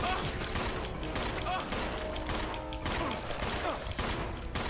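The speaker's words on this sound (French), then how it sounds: "On utilise un peu le pistolet." Pistol shots and action noise from the video game Resident Evil 0, heard as a dense, even wash of game sound with faint repeated bursts and no clear talk.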